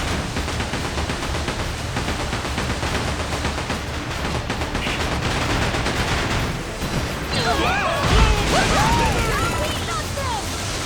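Cannon fire from a pirate ship in the Like a Dragon: Pirate Yakuza game, sounding as a dense, continuous volley of booming blasts and crashes over roaring sea and battle noise, with a heavier burst near the end.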